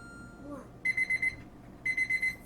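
A kitchen timer set while cooking Nissin Demae instant ramen goes off with two quick bursts of about five sharp electronic beeps each, clear and fairly near, with a quiet pause between them.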